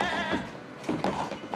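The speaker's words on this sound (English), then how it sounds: "Are we about to sacrifice a goat?" A goat bleats in a scene from the TV show The Leftovers, a few wavering cries over a dense bed of other sound.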